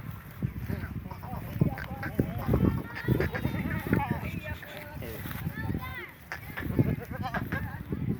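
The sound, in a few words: goat bleating on a goat farm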